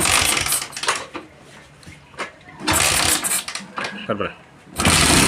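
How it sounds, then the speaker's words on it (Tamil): A motorbike engine cranked and started with a fault that causes an air-leak sound, coming in loud bursts of revving that stop and restart, with a voice speaking briefly between them. "இப்போ வண்டி நான் ஸ்டார்ட் பண்ணுறேன், காமிக்கிறேன் உங்களுக்கு."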